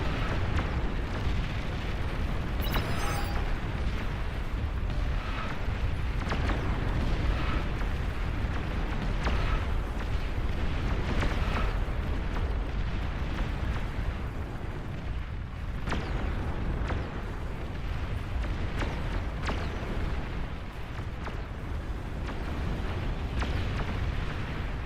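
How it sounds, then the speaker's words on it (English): Bombing run in the strategy video game Beyond All Reason, a sustained rumble of distant overlapping explosions and booms rolling on continuously, dense and low, with no speech. "Yeah, and the bombing ran."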